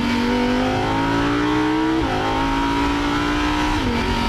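An Audi R8 evo supercar engine revs hard at full throttle, its loud sustained engine and exhaust note climbing steadily in pitch with two brief dips around gear changes, close and continuous without talk.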